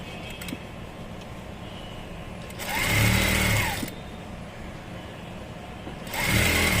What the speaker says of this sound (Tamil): கை மட்டும் கரெக்டாக அங்கேருந்து ஃபுல் ரவுண்டு தைச்சிருங்க